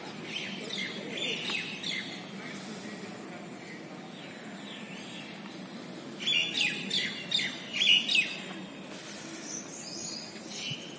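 Sparrows and crows call in a leafy green college campus in Malerkotla, Punjab, with scattered bright chirps and tweets, a busier cluster of calls midway, over a quiet background hum.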